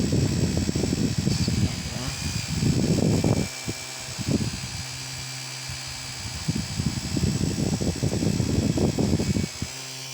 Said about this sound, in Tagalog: pa ako bibili ng mini electric fan kung kaya ko naman